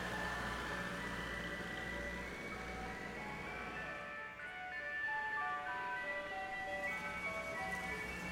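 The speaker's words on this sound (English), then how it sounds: "I'll bring her back in that ice cream truck." An ice cream truck plays its tinkling chime melody over a low engine rumble, the bell-like tune repeating steadily and close by throughout, with no talking.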